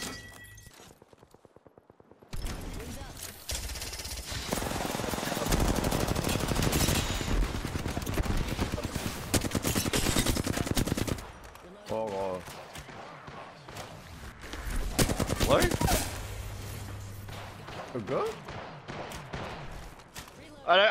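Gunfire in the battle royale shooter Apex Legends, with sustained loud bursts of automatic fire across much of the stretch, broken by pauses and game effects while a player talks over it.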